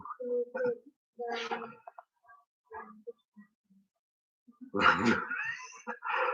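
A dog whines and makes short vocal yelps, then a louder yelping burst near the end, close by in a quiet room during a working men's club quiz.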